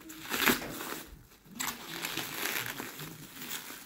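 Packaging being unwrapped from a second-hand Land Rover Discovery 2 Td5 part, with crinkling and crushing of wrapping in short irregular bursts and a brief pause midway, close and fairly quiet.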